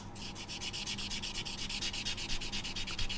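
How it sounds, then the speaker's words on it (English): Steady rhythmic sanding, a fine sanding sponge rubbed back and forth over the plastic seams of a 1/48 scale model aircraft kit in quick even strokes, close and continuous with no voices. "polish them up a little bit, the seams, with a fine sanding sponge"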